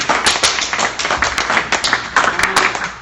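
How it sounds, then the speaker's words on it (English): Applause from a live audience at the Nordic Innovation House before a fireside chat, a dense patter of many hands clapping steadily throughout, fairly close and loud. "can we have an applause?"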